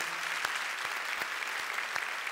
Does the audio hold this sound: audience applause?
yes